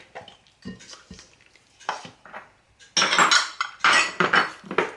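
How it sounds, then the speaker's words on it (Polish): Cake batter with mashed bananas and flour being mixed in a bowl, soft intermittent scrapes at first, then louder rhythmic sloshing and utensil knocks in the second half. "I całość dokładnie mieszam."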